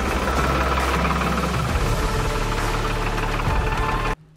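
A tractor engine runs steadily up close, a loud, dense rumble with a knocking, throbbing low end that holds for about four seconds before cutting off abruptly.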